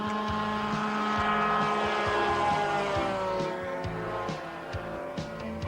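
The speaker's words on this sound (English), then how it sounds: "To see the Stratos flying for the first time is staggering." A Ligeti Stratos joined-wing light aircraft flies by, its propeller engine drone loud and steady with harmonic whine, fading slightly toward the end.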